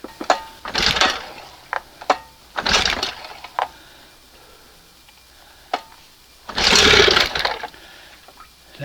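An old outboard motor is cranked in three rough, broadband bursts spaced by pauses, with scattered clicks and knocks between them. It never settles into a steady running note.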